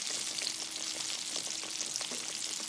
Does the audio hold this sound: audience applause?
no